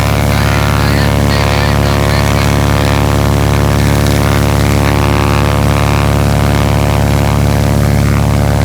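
An airplane propeller roars at full power, very loud and close, blasting wind toward a tent in a steady unbroken drone with a strong low hum and broad rushing noise.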